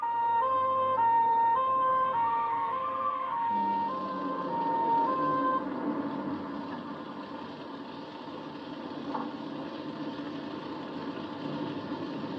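A Land Rover fire engine siren wails in a steady two-tone pattern for the first few seconds. It then gives way to a broad engine and traffic rumble that fills the rest of the passage, with no talk.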